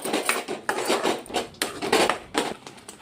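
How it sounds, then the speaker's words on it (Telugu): Spoon scraping and clanking rhythmically against a pan while egg green chilli masala gravy is mixed, a series of close metallic strokes over about three seconds. "ఇది కూడా మంచిగా కలుపుకొని"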